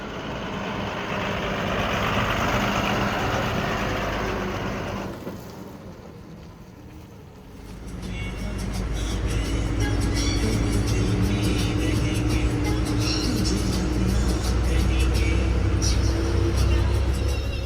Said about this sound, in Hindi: यहाँ एंट्री होने के बाद अब हमारी बस आगे के सफ़र पर निकल रही है।